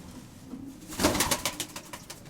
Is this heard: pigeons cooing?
yes